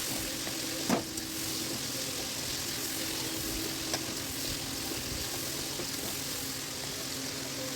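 Tomato softening and frying in a pan, stirred with a spatula, giving a steady, moderately quiet sizzle with a couple of brief scraping clicks.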